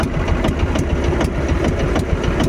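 A fishing boat's engine runs loud and close, a steady rumbling chug with an even pulsing beat that continues unbroken throughout.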